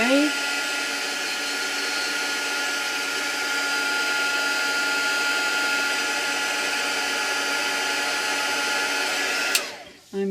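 A handheld dryer, probably a hair dryer, blows over a wet journal page, a loud steady close whoosh held for nearly ten seconds before it clicks off abruptly near the end.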